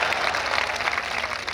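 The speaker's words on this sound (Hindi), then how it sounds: "आप ताली बजा रहे हो" An audience claps steadily in a dense, continuous burst of applause, fairly loud and unbroken, with no voices standing out.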